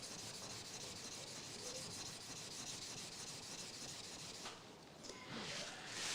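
A steel card scraper is rubbed back and forth on a sharpening stone to polish a strip corner to corner, a soft, continuous gritty scraping heard up close and quietly, with a brief pause near the end.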